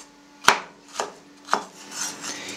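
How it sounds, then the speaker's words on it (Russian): A knife chops Napa cabbage into thin strips on a board, with about five crisp, close cuts at an even, unhurried pace and no talking. "нарезаем мелкой соломочкой"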